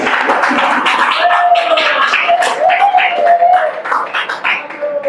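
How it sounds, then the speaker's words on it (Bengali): A group claps, the applause mixed with lively voices and shouts, loud and close, continuing throughout. "শাকিলের জন্য হাততালি"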